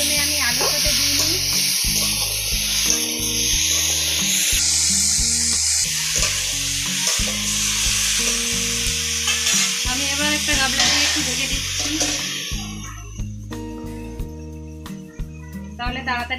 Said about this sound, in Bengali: আমি ঢাকাটা খুলে আবার নাড়িয়ে চাড়িয়ে নিয়েছি